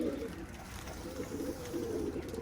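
Pigeons cooing on a rooftop, a steady low murmuring coo that carries on throughout under wind noise.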